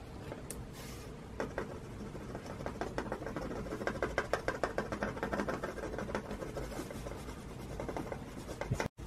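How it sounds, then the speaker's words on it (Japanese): A wood-burning pen shades a drawing in close, dry scratching strokes, quickening into a rapid rhythmic patter before a sharp click at the end. "今から焼きペンで影をつけていきたいと思います。"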